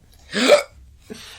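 A single loud, sharp human hiccup close by, followed about half a second later by a fainter, shorter second catch of breath.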